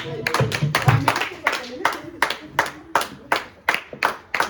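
A church congregation claps in steady rhythm to acclaim the Holy Spirit, crisp, evenly spaced hand claps, loud and close, with voices mixed in at the start.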